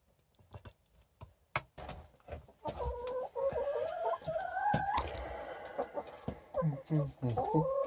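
Chickens cluck and squawk close by in a snowy yard while pecking around boots. The calls are loud, irregular and overlapping, with soft scuffing between them.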